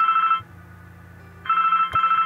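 A telephone rings in the point-and-click game The Blackwell Legacy, a loud electronic double ring that pauses and repeats, with a brief click near the end.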